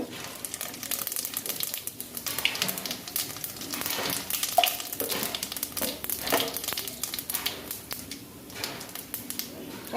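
Bay leaf and whole cumin frying in hot oil, giving a steady crackling sizzle with scattered sharp pops and a few stirring scrapes, close and moderately loud.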